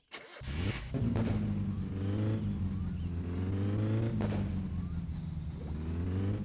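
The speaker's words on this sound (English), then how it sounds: "You can hear that the revs are too low." A video game car engine in My Summer Car idling low and steady with revs too low, a deep rumbling drone with slight wavering, close and continuous throughout.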